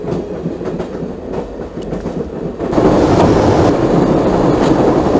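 Moving train in the 1996 adventure game Broken Sword: Shadow of the Templars, a loud continuous rumbling roar with rhythmic rail clatter that swells louder partway through.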